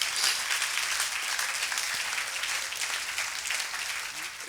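A church congregation applauding and cheering for Jesus, a loud sustained wash of many hands clapping with no break.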